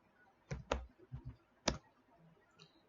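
Several sharp key clicks from typing on a computer keyboard, irregular and close, separated by short quiet gaps.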